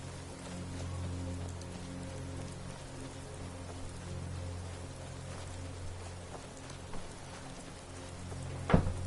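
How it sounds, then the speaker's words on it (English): Steady rain in the video game Skyrim patters on a surface throughout, soft and even, with a sharper knock near the end. "It's raining out there?"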